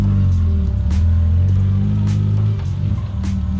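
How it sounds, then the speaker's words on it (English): A BMW E30 with a leaky clutch pedal idles and revs, its engine a loud, steady low rumble up close that swells briefly and then settles back down. "back in the E30. Let's see what she will do."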